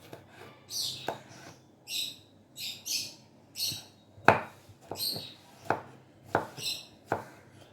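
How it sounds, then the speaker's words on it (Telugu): A knife cuts a brinjal (eggplant) into slices on a board, about eight crisp chopping knocks at an uneven pace, while birds chirp intermittently in the background. "ఒక వంకాయని అవి పలుసుగా కట్ చేస్తున్నాను"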